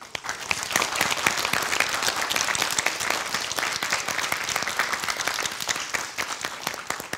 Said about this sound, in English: Let's give our contenders a big round of applause